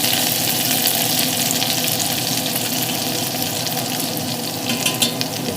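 Orange chicken with orange zest and green onions being stirred in a hot pan, giving a steady close sizzle and frying hiss with light scraping, no talking.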